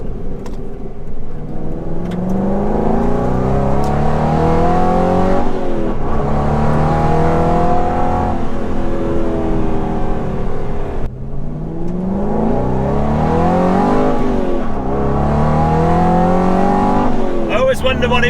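An Aston Martin GT8 revs hard through repeated gear changes, engine note climbing and dropping in loud sweeping pulls while driving on a road, heard from inside the car with occasional voices over it.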